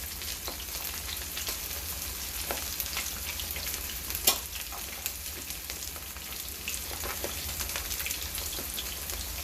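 Fish sizzles in a pan of oil over turned-up fire, a steady close frying hiss with crackling pops and spatters throughout, no talking.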